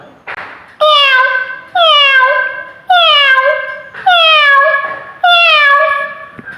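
A person imitates a cat, giving five drawn-out meows in a row, each loud and close, with short pauses between them.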